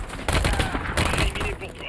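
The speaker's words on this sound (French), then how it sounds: "J'ai pris le contrôle d'une tourelle." A mounted turret machine gun fires in the Call of Duty MW3 campaign, a dense, loud, continuous burst of rapid gunfire that runs almost unbroken for the whole stretch.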